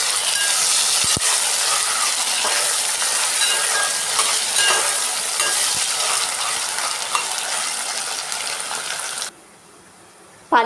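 Food frying in a pan with steady loud sizzling and occasional scraping of a spoon as it is stirred and mixed, continuous for most of the stretch before cutting to near quiet at the end; no talk.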